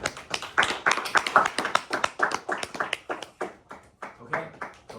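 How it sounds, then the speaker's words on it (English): A small audience claps in a room, a scattered round of applause with uneven, sharp hand claps that thins out toward the end, with some talking mixed in. "oh, round of applause"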